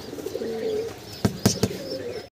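Pigeons at a pigeon farm coo close by in low throaty phrases, with a few sharp flaps or taps bursting in near the end before the sound cuts off.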